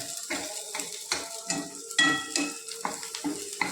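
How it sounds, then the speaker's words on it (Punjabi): Cumin seeds crackle and sizzle loudly in hot oil, with spoon scrapes and clinks against the pan as it's stirred. No one speaks. "ਤੇ ਹੁਣ ਤੜਕਾ ਲਾ ਕੇ ਮੈਂ ਹੁਣ ਇਹ 'ਚ ਜੀਰਾ ਪਾਉਣੀ ਆ"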